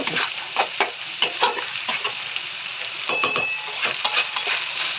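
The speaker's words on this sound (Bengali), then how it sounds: "পেঁয়াজটাকে ভাজতে দেবো পেঁয়াজ কুচি কুচি নিয়েছিলাম করে সেটাকে ভাজতে দেবো এটা ভাজতে থাকো" Chopped onion fries in a pan, a close sizzle punctuated by frequent rhythmic scraping and clinking from a spatula stirring against the metal, with no talk.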